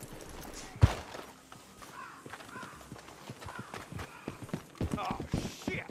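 Horse hooves clip-clop at a walk in the Red Dead Redemption 2 video game, with a loud thud early on, and several voices talk over the hoofbeats throughout.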